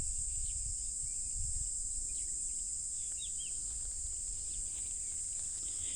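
A steady high-pitched drone of small insects runs throughout, with a few faint bird chirps scattered over it, quiet and outdoors beside a small wood next to farm fields.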